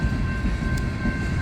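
Mixed freight train with short tank cars rolling past on the Old Main Line, a loud, close, steady rumble with a faint high whine and a brief squeal.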